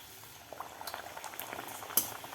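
Spiced masala puri deep-frying in hot oil, giving a soft, steady bubbling sizzle with scattered small pops and one sharper crackle near the end, alone without voices.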